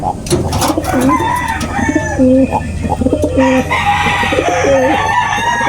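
Gamefowl breeder roosters crow repeatedly close by, several drawn-out calls overlapping with clucking from other birds in a busy yard.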